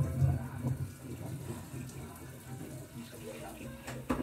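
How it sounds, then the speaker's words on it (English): A kitchen tap runs in a steady stream for water being added to dough, with people talking over the splashing flow. "Give me some water too, so I can add into this."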